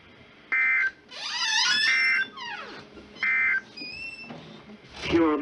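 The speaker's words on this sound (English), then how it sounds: "This concludes the weekly test of the NOAA Weather Radio Warning Alarm device." A NOAA Weather Radio warning alarm tone sounds during a weekly test, as three short, steady, loud bursts separated by gaps, mixed with other broadcast sounds.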